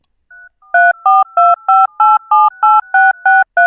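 Computer-generated DTMF telephone keypad tones from Audacity: a short faint beep, then a rapid steady run of about eleven loud two-pitch dialing bursts, clean and alone.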